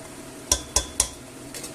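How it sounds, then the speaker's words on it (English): Pork ribs with potatoes in white wine being stirred in a pot, three crisp clinks of a utensil against the pot at even intervals, with a faint simmer underneath and a softer scrape at the end. "I'm going to give it a nice stir. To mix the juice with the potatoes."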